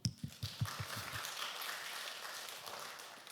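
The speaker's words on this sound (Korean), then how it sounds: "박수." A church congregation at a Sunday service claps in a run of distinct, fairly rhythmic beats that blur into a softer, scattered patter of applause, heard from a distance.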